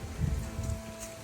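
Heavy rain and gusting wind in a rural storm before dawn make a dense, steady hiss with low buffeting rumbles, close and loud.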